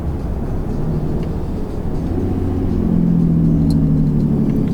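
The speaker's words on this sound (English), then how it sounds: "I'm going to bring this to a stop down here using the Jake brake." A 2017 Ram 3500 Laramie pickup slows under its Jake brake, a deep steady diesel rumble heard from inside the cab that rises into a louder droning growl as the braking takes hold.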